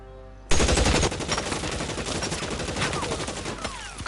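Heavy sustained gunfire erupts suddenly in the L.A. Noire video game, a dense loud barrage of rapid overlapping machine-gun bursts and shots that keeps rattling without pause after a quiet opening.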